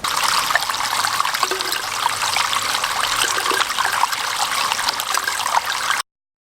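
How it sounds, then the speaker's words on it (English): Water from a portable water filter trickling into a bottle in a hotel room, a steady close splashing stream that runs evenly and then cuts off abruptly. "I'll get my water filter and fill them up."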